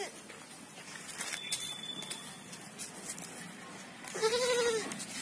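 A goat recovering from PPR disease bleats once, a clear wavering cry near the end, after a stretch of quiet farmyard background with faint voices.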